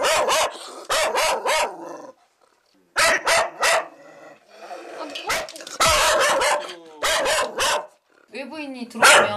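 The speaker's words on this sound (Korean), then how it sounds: "외부인이 들어오면 일단 공격성 짖음처럼 강하게 짖어요." A dog barks hard and aggressively at a visitor arriving at the door, with loud repeated bursts of barking in clusters separated by short pauses, mixed with people talking.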